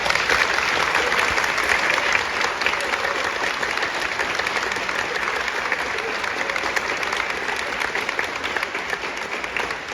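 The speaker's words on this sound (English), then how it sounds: "we're going to give them thunderous applause right now" Thunderous, sustained applause from a school concert band audience at a spring concert, dense steady clapping filling the whole stretch without letup.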